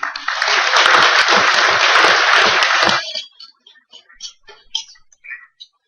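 A congress audience at an awards session breaks into loud, dense applause for about three seconds, then it stops abruptly, leaving a few faint scattered sounds and murmurs.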